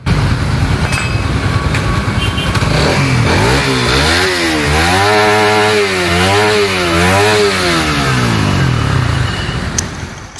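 Suzuki Satria FU fuel-injected motorcycle engine running up close, loud and continuous, revving up and down in several rising and falling sweeps through the middle before settling back to a steady idle.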